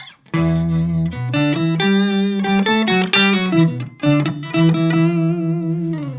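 Sustained electric guitar notes swell in with a deep octave-below layer doubling them, giving a thick, droning, effected tone that changes pitch every second or so.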